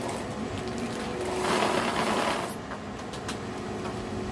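A sewing machine runs steadily, stitching a zipper onto blouse fabric, with a whirring mechanical drone that swells briefly in the middle before settling back to an even hum, close and alone.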